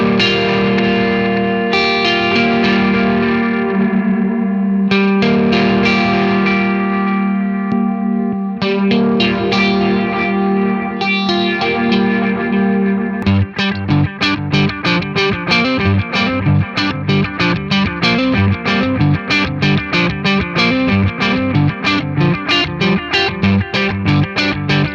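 Electric guitar runs through two Donner mini delay pedals stacked together, loud sustained chords giving way to fast picked repeating notes with layered echoes and distortion, alone without talk.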